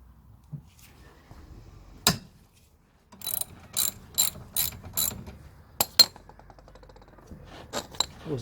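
A ratchet works a tie rod bolt on a Classic Mini, giving sharp ratcheting clicks in a quick series of bursts, close and crisp, over a quiet workshop background.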